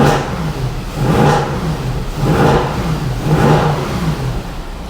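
A Mercedes W204 C63 AMG with the M156 V8 at full operating temperature revs repeatedly, loud and close, in three or four swelling pulses over a steady idle-like drone, with no talk.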